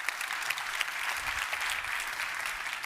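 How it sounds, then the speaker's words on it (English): Steady audience applause filling a hall at the final of an international science talk competition, a continuous dense patter of clapping hands at even loudness throughout, with no voices over it. "Round of applause."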